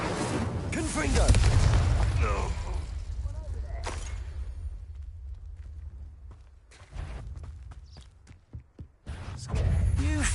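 Explosive spells in Hogwarts Legacy go off as heavy booms and crackling blasts, one after another at irregular intervals, loud and near, with brief quieter gaps between them.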